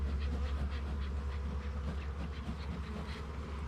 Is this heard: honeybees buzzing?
yes